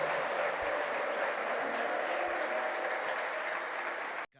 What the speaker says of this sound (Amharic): እልልታ፣ ጭብጨባ፣ ምስጋናን ለጌታ እናመጣለን